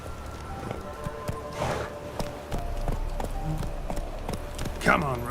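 Hooves of the horse Roach in The Witcher 3, clip-clopping in an irregular series of sharp taps at close range under other game sounds.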